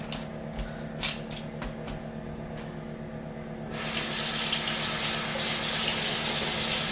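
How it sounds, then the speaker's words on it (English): Tap water runs into a kitchen sink while hands are washed during asparagus prep, a steady broadband rush starting partway through after a few quieter clicks and knocks, close and continuous with no talking. "I'll wash my hands real quick."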